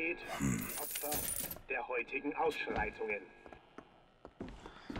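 A coin pickup in the video game BioShock Infinite gives a short metallic clink among other game sounds, while someone talks over it.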